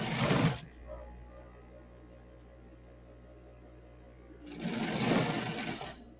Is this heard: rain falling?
no